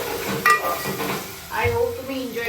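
Onion being sautéed until brown in a pan for pav bhaji gives a soft sizzle, broken by a spatula scraping and stirring and a few clinks against the pan.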